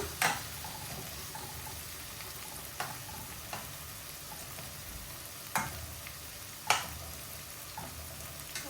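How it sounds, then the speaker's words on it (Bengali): Shrimp frying with spices, naga chili and green chilies in a pan: a steady soft sizzle runs throughout, broken by a few sharp spatula scrapes and clinks as the mix is stirred. "মশলা ভালো করে ভাজা হইব"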